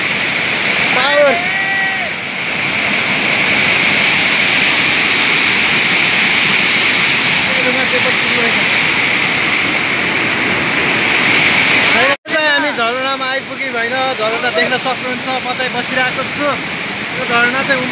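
A waterfall pours down a rocky hillside in Nepal with a steady, loud, broadband rush throughout, and voices speak excitedly over it at times.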